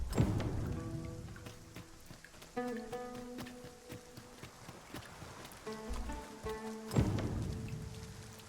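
Steady rain patters across an outdoor scene in the video game Dragon's Dogma 2, with clip-clopping hooves and soft musical tones layered over the constant wash of falling drops.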